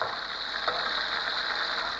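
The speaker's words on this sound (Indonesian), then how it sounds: "Kita goreng sampai setengah matang aja" Steady bright sizzling of chicken frying in hot oil, continuous and close, with a faint crackle, no voices.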